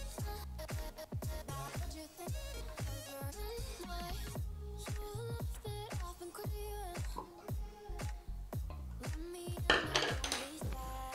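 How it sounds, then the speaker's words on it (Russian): Cream cheese and cream whisked together into a mousse, rapid rhythmic clicking and tapping of a whisk against a bowl, close and continuous with brief pauses. "Все это взбиваем долго, тщательно."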